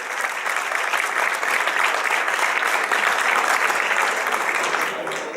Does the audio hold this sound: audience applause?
yes